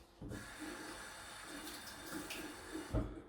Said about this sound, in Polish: Zmaczam go w wodzie. Dokładnie wyciskam nadmiar wody.